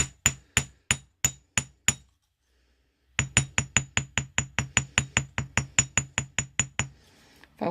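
A hammer taps out a quick run of sharp metallic clinks on a wire heart pendant, with seven strikes, a short pause, then a longer steady series of evenly spaced taps, close and distinct.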